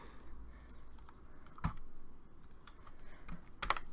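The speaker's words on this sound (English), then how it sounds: "Stop clicking that." Computer keyboard and mouse clicking, scattered light taps with two sharper, louder clicks standing out against a quiet room background, close to the microphone.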